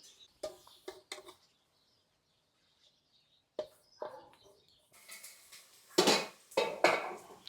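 Masala spices being pounded in a kitchen, irregular sharp knocks in short bursts separated by quiet gaps, with metallic clatter of dishes and utensils.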